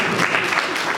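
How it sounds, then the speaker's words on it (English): Dense, continuous clapping from an audience applauds the graduates at a YIL Network Gambia chapter graduation ceremony, steady and fairly loud for a brief moment. "can we please clap for the graduates?"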